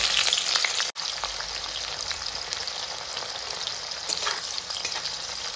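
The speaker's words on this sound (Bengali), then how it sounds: "এরপর আমি পেঁয়াজ ফোড়ন দেবো।" Onions frying in hot oil after dried red chillies, a dense, continuous crackling sizzle heard up close with no voices.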